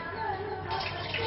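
Water poured from a small container for cleaning in a traditional eastern-style bathroom, a brief soft splash and trickle close by, quiet and short.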